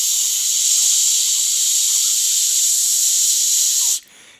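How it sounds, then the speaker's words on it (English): A Ninja Foodi pressure cooker vents steam through its valve in a loud, steady, close hiss that holds for about four seconds and then cuts off abruptly. "here I am turning the valve, so we are releasing all pressure, so it will allow us to take the lid off very soon"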